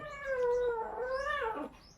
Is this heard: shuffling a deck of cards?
no